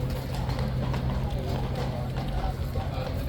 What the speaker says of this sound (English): most of the horses that we just saw entering the stable area